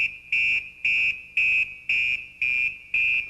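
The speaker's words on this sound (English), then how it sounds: "It emits an alarm." A firefighter's PASS device on a breathing apparatus sounds its motionless-wearer alarm: six loud, shrill electronic beeps in an even pulsing rhythm, each about a quarter second long, alone with no talking.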